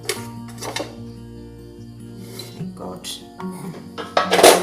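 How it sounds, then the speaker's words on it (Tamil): A metal cake pan for an eggless mango cake is set down on a ring stand inside a cooker, giving a few clinks and scrapes of metal on metal under a steady background hum. "நான் இதே மாதிரி ஒரு ரிங் தான் போடுறேன். போட்டு அதுக்கு மேலே இந்த பாத்திரத்தை வச்சுக்கோங்க."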